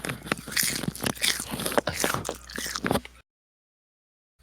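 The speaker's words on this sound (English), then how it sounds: "The microphone's not catching me crunching on the chocolates" Chocolates crunched and bitten close to the microphone, a run of loud, dense crisp bites and chewing for about three seconds, then abrupt silence.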